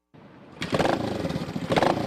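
An old motorcycle engine fires up and runs with a rough, throaty rumble, revving twice, close and loud.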